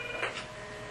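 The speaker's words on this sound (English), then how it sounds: "Now let's start with picking up line 1, dial pound 61." A business telephone system's keypad dials pound 61 on line 1, giving a brief, faint burst of two or three quick tones over a steady background hum.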